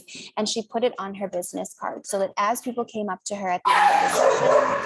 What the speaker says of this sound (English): sorry, that was the dog.